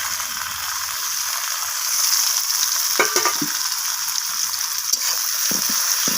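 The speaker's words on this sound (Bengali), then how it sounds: "তো টমেটোটাকেও আমি পেঁয়াজের সাথে ভেজে নিচ্ছি" Chopped tomatoes frying with already-fried onions in a pan, giving a loud, steady hiss of sizzling oil with occasional spatters and light stirring knocks.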